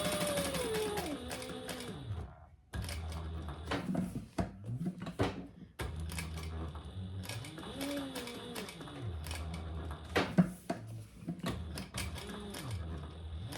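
A domestic sewing machine stitches a beginner's eyeglass case in short bursts, its motor whirring up and down in pitch between rapid needle clatter, with brief pauses and light handling clicks close by.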